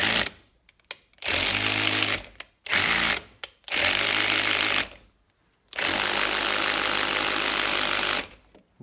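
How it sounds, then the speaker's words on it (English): An impact driver on a Torx setting hammers at stuck bolts to loosen them, firing in several loud, close bursts of rapid rattling with brief silent gaps between. "I'm using that Torx type setting, or whatever they call it, impact, to try not to strip or break the bolts"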